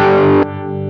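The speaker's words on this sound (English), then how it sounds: "Put some distortion after it." A thick, sustained guitar chord through a distortion pedal, with a Wampler Terraform modulation pedal placed before it, rings out loudly, then cuts to a quieter, thinner tone that lingers for a moment.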